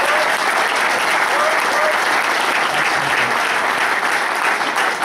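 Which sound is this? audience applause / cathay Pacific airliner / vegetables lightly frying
audience applause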